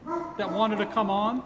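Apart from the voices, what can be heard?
dog barking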